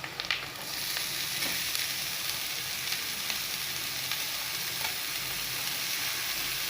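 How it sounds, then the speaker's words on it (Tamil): Onion and banana stem sauté in a pan, a steady close hiss and sizzle with faint clicks of stirring throughout. "வெங்காயம் நல்லா வணக்கிக்கலாம்"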